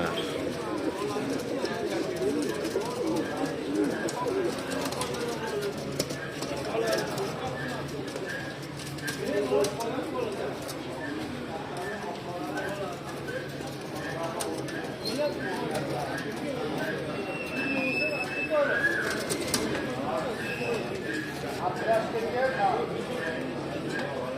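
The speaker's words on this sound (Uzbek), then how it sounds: "Chiroyli kaptar ekan." Pigeons coo softly in repeated low, throaty phrases while people talk nearby, with occasional clatter and shuffling in the background.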